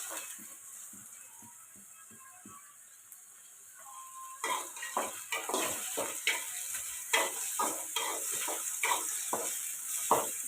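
Onions and green chillies fry in a pan, first a quiet light sizzle with soft stirring taps, then a louder crackling sizzle from about four seconds on, broken by repeated scrapes and clinks of a spoon against the pan.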